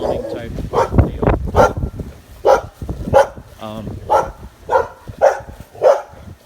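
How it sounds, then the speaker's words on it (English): Several dogs barking at a house for sale in Port Charlotte, repeated loud yaps and barks in a steady rhythm close by, with some human talk mixed in near the start. "these dogs are annoying as hell"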